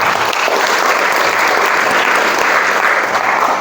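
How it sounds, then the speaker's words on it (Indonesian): A crowd at a Maulid gathering in an Indonesian girls' pesantren applauds, thick steady clapping that stays loud and uniform from start to finish. "Tepuk tangan lagi untuk kita semua"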